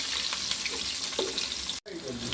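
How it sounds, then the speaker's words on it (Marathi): Green chillies frying in a pan for an okra dish, a steady close hiss of sizzling oil with light stirring scrapes, broken by a brief drop near the end. "हिरव्या मिरच्यांना पण थोडं हलवून घ्यायचं"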